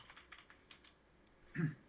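Light typing on a computer keyboard, a handful of soft, close key taps spaced unevenly, followed by a brief louder thump near the end.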